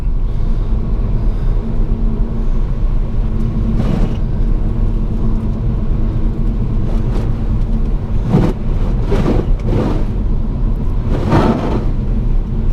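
A 2017 Ford Focus ST, front-wheel drive on summer tires, driving on a snowy, slippery road: a steady low engine and road rumble throughout, with a few brief louder swells of tire and slush noise.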